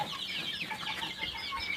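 Chickens cluck on a Thai poultry farm, a steady jumble of overlapping hen calls at moderate distance with no one talking.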